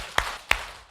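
A church lecture audience at a Bible seminar claps in unison, two sharp, moderately loud claps about a third of a second apart, with no talking.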